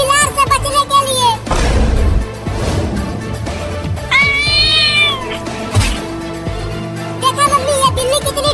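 A cartoon cat meows and caterwauls loudly in rising and falling yowls, several cries in a row, with a voice and other voices speaking between them.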